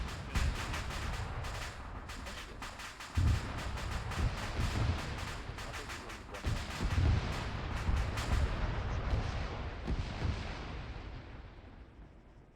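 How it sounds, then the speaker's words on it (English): Loud rumbling blasts and gunfire in an Arma 3 military anti-tank training exercise as a rocket is fired, one heavy launch boom followed by sustained echoing fire and wind noise, no talking. "Rocket, rocket, rocket."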